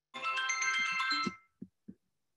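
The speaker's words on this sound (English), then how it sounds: "That was my phone ringing, sorry." A mobile phone rings with a bright electronic ringtone melody for just over a second, then stops abruptly, followed by two soft thumps.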